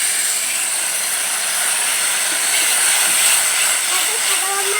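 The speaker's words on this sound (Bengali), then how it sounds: "এখন মাছ ভাজা তেলেই আমি দিয়ে দেবো গোটা জিরে ফোড়ন" Whole cumin seeds sizzle in hot oil left from frying bhola fish, a loud, dense, continuous crackling hiss that stays steady and close for several seconds.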